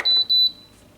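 A Seville Classics Ultra Slimline tower fan answers a press of its power button with two short, high electronic beeps in quick succession, close and clear, followed by near silence.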